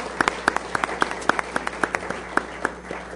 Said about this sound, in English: let's applaud them now for their great discussion